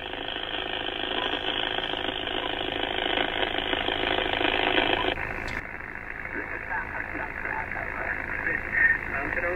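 An HF amateur radio receiver in AM mode picks up dense, harsh buzzing interference from a Toyota Hilux diesel. The static is loud and continuous, then steps down to a duller hiss partway through.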